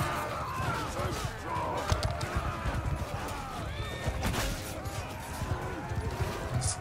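A horse in Mount & Blade 2 Bannerlord whinnies while its hooves clip-clop along, with combat clatter layered in and someone talking over the game sounds.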